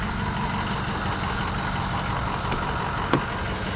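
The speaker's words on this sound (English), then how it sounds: "This is a clean running diesel too. Starts right up." A 2006 Ford F350 XLT with the 6.0 turbo diesel idles steadily and close by, a continuous low rumble with a faint tap near the end and no talking.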